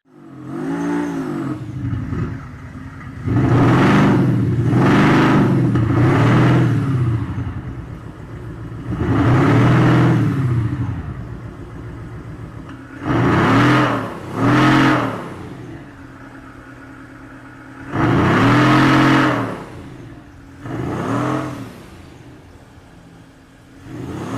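A Mercedes-Benz S-Class W221 fitted with a Maxhaust electronic exhaust system, its speaker-generated engine note swelling in repeated loud revving bursts with pauses between, each rise and fall distinct and close, no talking.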